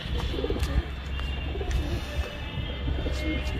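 Pigeons in a breeding setup coo softly and repeatedly while sitting on their eggs, low rolling calls under a steady background hum.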